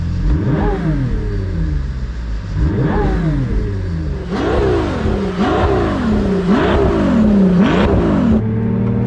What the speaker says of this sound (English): now listen to the V12 engine noise